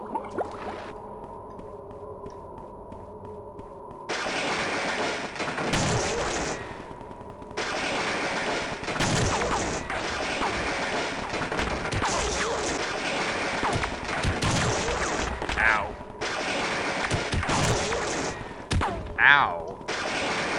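Turret gunfire in Half-Life comes in loud bursts of rapid automatic shots, broken by short pauses over about twenty seconds, with impacts and other game sounds mixed in.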